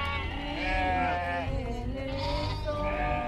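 Several sheep bleat loudly and close together in overlapping wavering calls over a rural scene with peasants ploughing and shearing wool.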